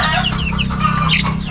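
Chickens cluck and chatter loudly at close range after being given calamansi, with several overlapping calls over a steady low hum.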